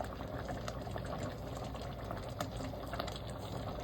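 A pot of chili with tomato paste simmers on a stove flame, giving a steady soft bubbling and gurgling hiss throughout, fairly quiet and close with no voices.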